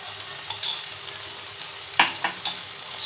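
Mashed long beans frying over medium heat while being stirred, a steady low sizzle broken by a few quick scrapes of the spatula against the pan.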